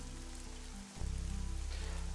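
Steady rain falls in a video game scene, a continuous even hiss with a brief dip partway through before resuming, heavier and fuller; no one speaks.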